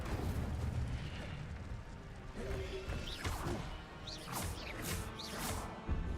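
Incendio fire spell cast during combat in Hogwarts Legacy on PC: a handful of soft, crashing bursts and thuds spread over several seconds, fairly faint against a busy background.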